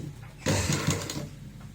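A sewing machine runs in one short, close burst of rapid stitching while attaching a frill to a baby frock, starting abruptly after a quiet moment and fading into a faint hum.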